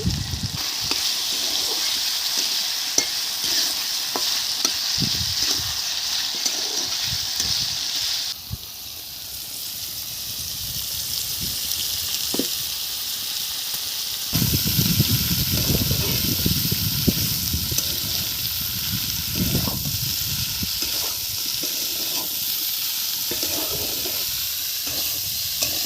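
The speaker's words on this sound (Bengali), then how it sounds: "ডুমুরটা একটু ভেজে নিয়েছি আলুর সাথে" Figs and potatoes fry in oil in a pan with bay leaves, salt and turmeric, giving a steady loud sizzle with intermittent scraping and stirring knocks, and the frying grows stronger partway through.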